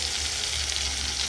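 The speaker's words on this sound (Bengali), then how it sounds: "টমেটো, পেঁয়াজ, মশলা কষানো চলছে" Tomato, onion and spices sauté in a pan for a chicken curry, giving off a close, continuous sizzle that holds steady with no talking.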